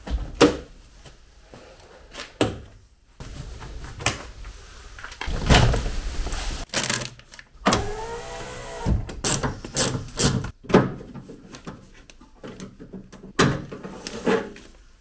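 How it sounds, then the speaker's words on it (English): Door handles being removed from a Mazda MX-5 door panel: a busy series of close clicks, clunks, scrapes and plastic rattles, with a brief whirring tool passage midway and no voice. "we're going to get the door handles off and replace them."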